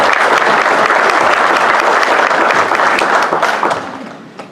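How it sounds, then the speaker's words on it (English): A studio audience gives loud, dense applause for a Nunez Community College football coach. The clapping holds steady throughout and fades out at the end. "Give him a big round of applause."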